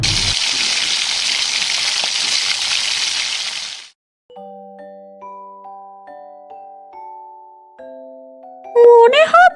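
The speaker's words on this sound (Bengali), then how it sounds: "মাছগুলো দাও, তাড়াতাড়ি ভেজে আনি।" Cartoon-style sizzle of fish frying in a pan, a loud broadband hiss lasting about four seconds, then cut off and followed by a quiet chime-like melody with a rising whistle at the end.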